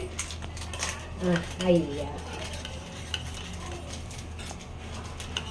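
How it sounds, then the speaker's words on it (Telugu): A spoon stirs chia seeds in warm water in a cup, giving a few distinct clinks and scrapes against the container over a quiet background. "అదైతే ఇప్పుడు స్పూన్తో అయితే బాగా మిక్స్ చేసుకోవాలి."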